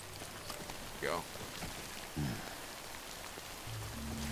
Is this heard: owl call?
no